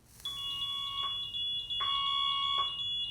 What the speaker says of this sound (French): Ça a déclenché l'alarme incendie.